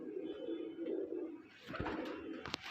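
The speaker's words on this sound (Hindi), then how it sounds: "कबूतर बतेरे आ रखे हैं भाई" Punjabi Malwai pigeons coo in low, soft, repeated murmurs close by in a room full of birds, followed by a few sharp rustles and a brief clatter.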